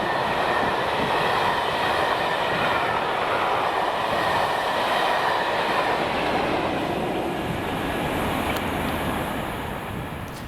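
Class 40 diesel locomotive 40013 departing Prestonpans Loop at Longniddry, a steady, loud rumble with the rolling clatter of rail wagons that holds throughout and eases slightly toward the end.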